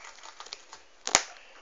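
Scissors make a small cut in a container while a gerbil enclosure is being cleaned: a few faint soft rustles, then one sharp, close snip.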